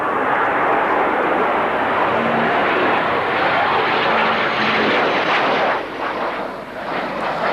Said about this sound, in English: as Canberra P for Papa gets airborne, with Roland Beaumont at the controls.